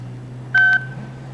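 A short electronic dial tone of two quick pulsed beeps, clear and close, like keys pressed on a phone keypad, as a phone number is dialed, with a low hum underneath.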